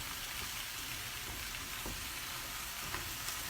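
Five cut-up medium squash cook in a skillet, giving off a constant, moderately quiet sizzle with occasional faint pops and no talking.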